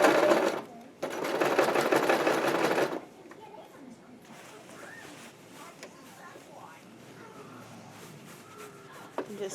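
Sewing machine stitching a skirt onto a bodice for a Princess Peach cosplay dress, a loud rapid mechanical chatter in two bursts that then stops, leaving quiet room noise with faint distant voices.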